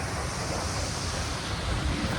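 A waterfall at Vashi, Navi Mumbai, roars steadily in the rainy season, a dense, unbroken rushing wash close by with no voices over it.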